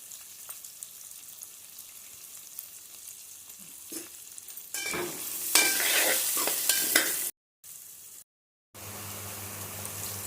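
Chopped onions fry and sizzle in hot oil in a pan for a tangy bitter gourd (kakarakaya) curry, with stirring scrapes that grow louder partway through and a couple of brief silent gaps.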